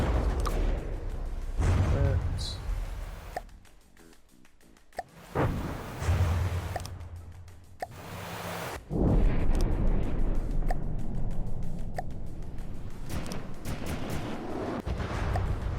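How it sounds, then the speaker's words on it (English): Booming blasts and rapid artillery fire from a naval battle in the video game From The Depths, centred on an anti-aircraft cruiser. Dense, loud bursts repeat throughout, with brief quieter gaps between volleys. "I feel like there's a lot of explosions"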